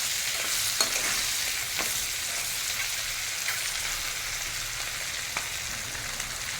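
Prawn claws, from a spicy giant river prawn curry, stirred and fried in a hot pan, giving a steady close sizzle with soft scraping stirs now and then.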